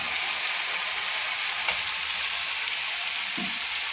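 Onion gravy with whole chillies frying in oil, heard as a steady, even sizzle throughout, with a single faint tap near the middle and a soft knock near the end.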